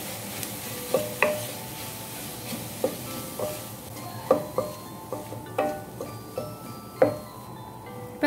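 Chilli powder and turmeric frying in a pan, a steady soft sizzle under repeated spoon scrapes and clinks at an uneven rhythm, close and moderately quiet, with no talking.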